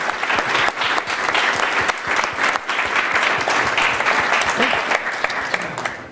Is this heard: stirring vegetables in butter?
no